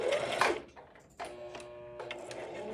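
A sewing machine back stitching fabric for a scrunchie, a short burst of fast mechanical whirring and clatter after a brief scrape, close and alone.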